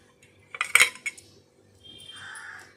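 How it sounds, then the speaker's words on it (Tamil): A knife cuts a boiled egg in two for an egg fry. Sharp clinks and taps of the blade against a plate or board come close by in a short cluster, then a softer scraping follows. No one speaks. "இப்போ நம்ம முட்டையை கட் பண்ணிக்கலாம்."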